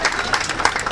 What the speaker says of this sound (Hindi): इनके लिए जोरदार ताली दीजिए।